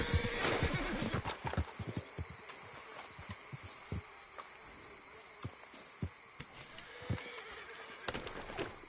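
A horse in a PS4 video game neighs and whinnies while its hooves clip-clop in an uneven rhythm, with sharp, separate hoof strikes sounding close and clear against a steady game backdrop.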